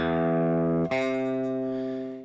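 Two sustained tones sound in succession for an interval ear-training exercise: a fifth, then a minor sixth struck right after it, the second ringing out and slowly fading.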